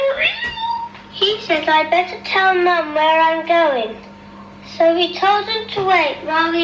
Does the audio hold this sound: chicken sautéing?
no